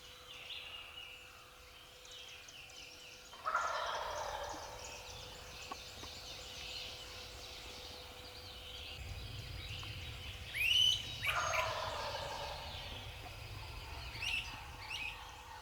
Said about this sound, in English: he would hammer back at her and then gobble at us